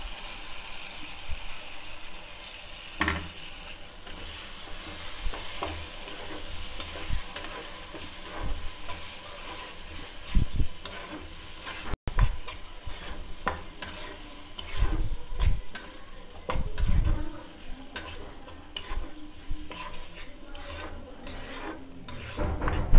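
Curd stirred into frying tomato and oil for a rohu fish curry: rasping spoon scrapes against the pan come in irregular strokes over a soft continuous sizzle, near and alone.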